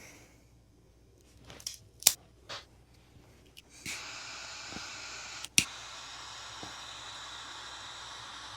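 A Padron Series Maduro 3000 cigar is snipped open with a cutter, giving a couple of sharp clicks and snaps amid faint rustling and breathy hiss, followed by a steady soft airy hiss, close and quiet.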